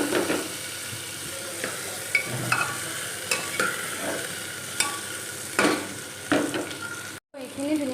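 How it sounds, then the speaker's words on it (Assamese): Onion, ginger, garlic and potatoes fry in a pan. A soft continuous sizzle runs underneath, and a spatula gives several sharp scrapes and clinks as the food is stirred. A brief cut comes near the end. "এতিয়া মই যিখিনি আলু লৈছিলোঁ আলু কেইটুকুৰা দি দিম"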